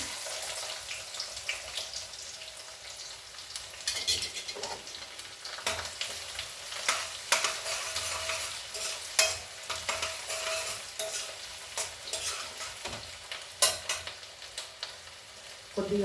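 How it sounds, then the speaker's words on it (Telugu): Cumin, mustard seeds and onions frying in a pan for Hyderabadi mirchi ka salan, a steady crackling sizzle with intermittent scraping stirs and spoon clinks, close and continuous with no voices. "ఇదిగోండి ఇవి వేగిపోతున్నాయి జీలకర్ర ఆవాలు ఇప్పుడు ఆనియన్స్ వేస్తున్నాను"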